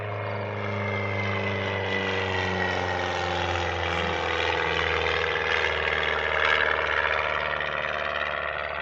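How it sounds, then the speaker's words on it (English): Old, loud crop duster airplane flying over farmland, a steady droning propeller engine hum that holds constant at moderate distance with no speech. "All the crop dusters. They're loud. They're old."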